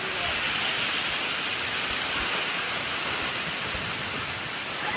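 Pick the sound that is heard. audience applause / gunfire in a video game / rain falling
rain falling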